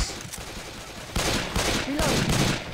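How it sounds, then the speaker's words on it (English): Shotgun blasts in a video game, a couple of loud bursts of gunfire standing out over a busy game soundscape, with a brief voice in the mix. "I'm shooting out all the question mark blocks"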